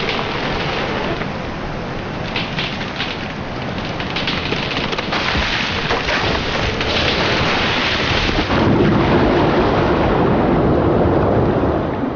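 A winter storm in Scotland's coastal woods: heavy rain and roaring wind form a loud, steady wash of noise that never lets up, with low rumbling swells like distant thunder and no voices.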